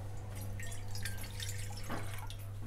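Water pours into a heavy-bottomed pot while wheat papad is being made, a soft continuous trickle and splash heard faintly over a low steady hum.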